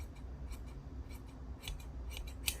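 Scissors snip through thick fabric at a trouser hem in a quiet room, a handful of short, crisp cuts at uneven intervals, close and fairly faint.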